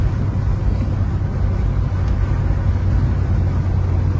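Steady loud drone of a car engine and turbocharger heard from inside the cabin, a continuous low rumble with a faint airy whoosh riding on top and no clear separate release.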